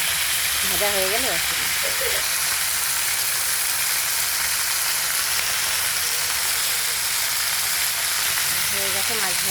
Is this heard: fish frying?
yes